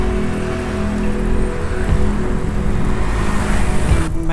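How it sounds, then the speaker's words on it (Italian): Steady morning road traffic heard from a bicycle on a flat country road, with cars rushing past close by in a continuous roar that swells at a few passes, no talking. "c'è un bel traffico mattutino!"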